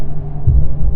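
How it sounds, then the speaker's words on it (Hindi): A heartbeat sound effect gives a single deep, muffled thump over a low steady hum, heavy and close in a hushed, tense quiet. "इतना गहरा कि अपनी ही धड़कनें सुनाई दें।"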